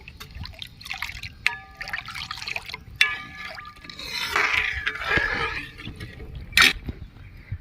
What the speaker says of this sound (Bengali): আমি এবার ঢেলে নেব আমি এক কেজি দুধ নিয়েছি